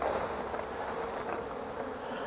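Dense, steady buzzing of a large swarm of honey bees close by as a hive is opened during a removal, a continuous drone with no speech over it.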